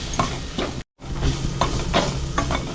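Beetroot kurma masala with tomatoes sautéing in a pan, loud close sizzling broken by several scraping stirs of a spatula, with a brief cut to silence partway through.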